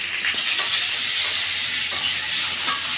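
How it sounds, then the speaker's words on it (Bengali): Salted, pre-steamed potatoes frying in oil in a wok, giving a steady, dense, close sizzle with a few faint scrapes of stirring throughout and no voices. "আমি আলুটাকে ভালো করে এখানে ভেজে নেব"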